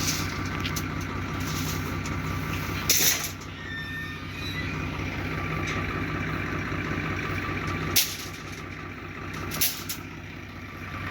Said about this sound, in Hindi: देखिए ये जो ट्रैक्टर आ गया है,